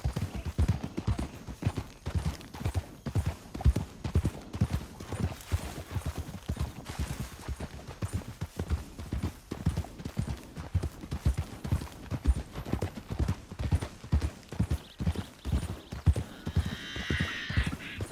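Horse hooves clip-clopping in the Red Dead Redemption 2 video game, a steady rhythmic trot of many close hoofbeats on hard ground, with a brief whinny near the end.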